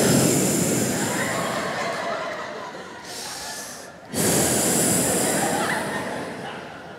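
A voice imitates deep, slow breathing: long, breathy, rasping inhales and exhales that fill the stretch, with a short quieter gap before a loud final breath, heard close and without words.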